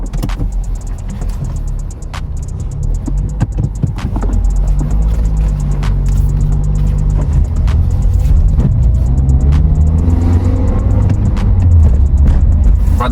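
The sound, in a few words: Toyota car driving off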